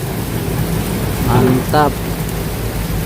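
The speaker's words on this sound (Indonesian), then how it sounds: "seperti inilah ya kondisi Kali Baru saat hujan deras tuh" Heavy rain pours steadily over the Kali Baru river in Tambun, Bekasi, a loud, dense, constant hiss that fills the whole stretch while a voice briefly speaks over it.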